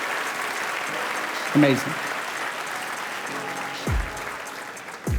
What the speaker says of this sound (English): So please give yourselves a big round of applause for being a part of the Full Sail family.